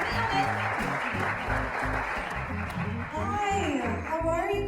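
Audience applause and cheering for a comedian at a comedy showcase, a steady loud wash of clapping that swells briefly near the end as a voice starts over it.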